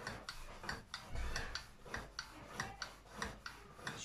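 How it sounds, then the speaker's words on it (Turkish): Bread dough for puffed bazlama is rolled out with a long thin rolling pin, giving soft, faint, regular rubbing and tapping strokes about twice a second, close and alone. "Şöyle oklavayla açıyor."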